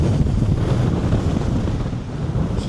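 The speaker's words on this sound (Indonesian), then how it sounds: "Anginnya kencang guys" Strong wind buffets the microphone with a constant low rumble and gusty rushing, loud and unbroken, with no voices.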